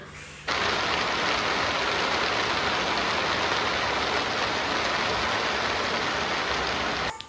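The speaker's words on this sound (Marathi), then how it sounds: "पाऊस पडतो आहे बाहेर" Rain falls steadily outside at night as a dense, loud hiss that starts abruptly and holds evenly throughout with no breaks.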